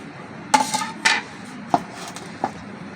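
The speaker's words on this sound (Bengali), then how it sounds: "এবার আমি এই ঢাকনাটা তুলে নিচ্ছি।" Metal lid lifted off a covered bowl of dough: a few sharp clinks and knocks, four distinct taps spread across a quiet kitchen, close and fairly loud.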